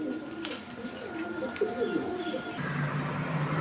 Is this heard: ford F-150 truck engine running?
no